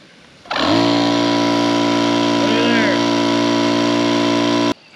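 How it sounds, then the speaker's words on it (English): A 12 volt portable air compressor switches on and runs with a steady, loud mechanical drone and buzzing motor hum, holding constant for about four seconds before cutting off abruptly. "An air compressor, a 12 volt air compressor."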